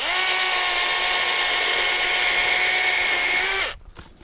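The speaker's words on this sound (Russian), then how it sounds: "ее любимая пила готова к работе" A battery-powered cordless saw runs at a steady high-pitched whine for several seconds, loud and close, then winds down abruptly as the motor stops.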